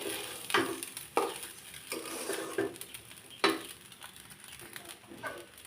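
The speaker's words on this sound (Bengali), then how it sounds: "এখন আমি এভাবে কষিয়ে নিব তেলে ভাজি করে নিব আর কি দুই থেকে তিন মিনিট" Rice grits frying in oil with turmeric and salt, stirred in a pan: a soft continuous sizzle broken by several sharp spatula scrapes and knocks against the pot at irregular intervals.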